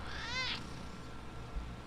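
A single cat gives one short, rising-and-falling meow near the start, heard faintly over a low background hum.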